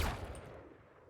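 Gunfire in Valorant while testing bullet penetration through cover: a sharp shot burst at the start that quickly decays into a fading tail, quiet and alone.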